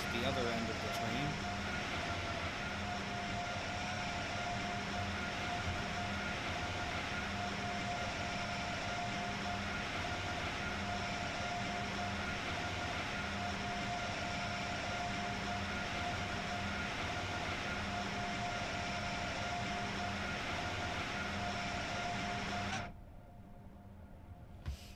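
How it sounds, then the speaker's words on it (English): An Acela Express train cruises steadily in the Train Sim World 5 video game, running from Providence to Boston, a constant mechanical hum with a steady tone and faint rhythmic pulsing that cuts off abruptly near the end. "Here's our train just cruising along here."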